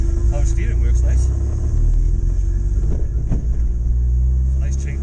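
A Ford Capri fitted with a turbocharged Zetec engine and a Maxx ECU is driven: a loud, steady low engine drone and rumble carries throughout, with brief lighter noises flickering on top.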